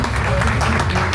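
Applause and clapping from a gathered crowd at a godfather celebration party, a short dense burst close by with voices mixed in.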